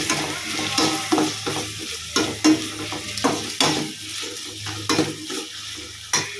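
Onion and green chilli with salt sautéing in a pan for a quick chicken gravy, with close, steady sizzling and frequent scraping stirs and clinks of a spoon against the pan, and no talking.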